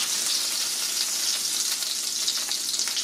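Polish-style breaded pork chops, schabowe, pan frying in hot fat, a dense, even sizzle heard close and uninterrupted throughout.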